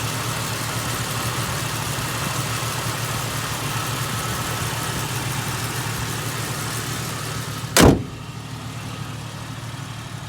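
Steady idle of a Jeep XJ's 4.0-liter straight-six through a Borla exhaust, an even low rumble held for about eight seconds before a single brief sharp click, then the idle continues at the same level.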